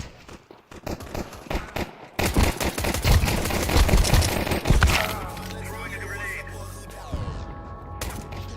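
Gunfire in the tactical shooter Valorant: a sparse run of clicks gives way to a dense, loud stretch of rapid shots and impacts, then a quieter ringing tail with a late crack.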